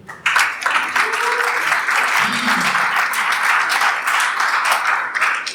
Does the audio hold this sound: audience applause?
yes